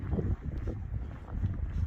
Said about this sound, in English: there's no tree cover or anything to stop the wind